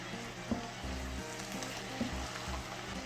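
Stir-fried seafood jjamppong, loaded with vegetables and seasoned with pepper, sizzles steadily in a pan, with soft rhythmic stirring scrapes about every one and a half seconds.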